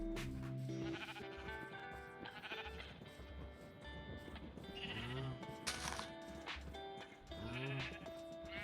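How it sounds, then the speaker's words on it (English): Sheep in the Minecraft video game bleat repeatedly, several wavering, nasal calls spaced across the stretch, some overlapping, with soft game ambience underneath and no talking. "We're definitely going to be adding some sheep to this pen"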